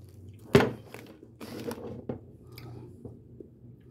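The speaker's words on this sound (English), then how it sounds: "We're going to try them fine crunchy" Thin, crunchy Great Value potato chips are bitten and chewed up close, one sharp crunch followed by several softer crackling chews and some rustling, with no talking.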